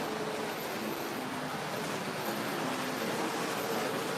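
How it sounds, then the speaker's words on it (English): An O scale model train runs along layout track over an insulated block, producing a continuous soft rolling rumble and hiss with faint squeaks, steady and moderately quiet throughout. "And the train's going over the insulated block."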